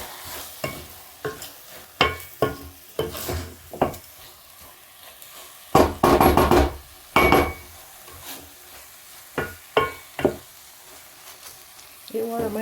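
Leftover stew with rice pilau is stirred in a pot, a series of close, uneven scraping and clattering strokes with short pauses between them, and no talk.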